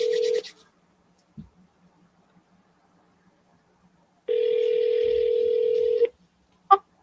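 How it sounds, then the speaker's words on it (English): A telephone line emits a steady dial tone, then a short tap and a long held tone, and finally a single brief dialing beep, with silence in between and no speech. "We're going to double dial him this morning."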